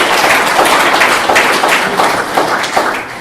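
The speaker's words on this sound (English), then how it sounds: "please help me give Vivian a round of applause." An audience at a gathering in Durham, North Carolina gives a round of applause, loud dense clapping that carries steadily and fades slightly at the end.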